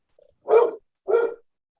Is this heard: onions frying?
no